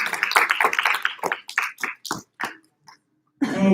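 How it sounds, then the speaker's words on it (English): Scattered claps from a group of elementary school children at an awards ceremony, a quick irregular run of hand claps that thins out and stops, followed by a voice starting to speak. "let's give Whitney Campbell a round of applause"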